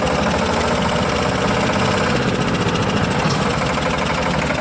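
A steady, rumbling tractor engine runs close by with a dense mechanical clatter, holding an even level throughout with no voices.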